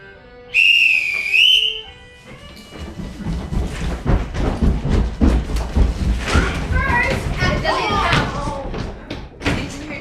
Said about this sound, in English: take out his stopwatch, and whistle a sample call